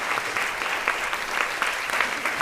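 Audience applause for a live stage performance of a women's empowerment song, steady dense clapping from a large crowd filling the whole stretch at an even, sustained level.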